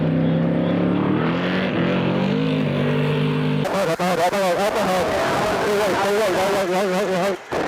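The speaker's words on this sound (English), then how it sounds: "Trophy truck's getting ready to come in here." A trophy truck at the San Felipe 250 desert race rolls in for a fuel stop, its engine loud and close, first droning steadily then rising into a harsh revving roar, with voices talking over it.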